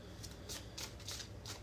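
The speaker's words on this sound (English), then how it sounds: "I'll go ahead and do the bridge shuffle." Playing cards riffled in a bridge shuffle, a series of bright crisp bursts of flutter and snap, about five quick riffles close and fairly quiet over a low steady background hum.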